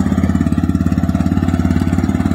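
A TVS Raider 125 motorcycle, a 2021 model, idles with a steady, loud, even exhaust thump, rapid regular pulses close to the microphone with no talking.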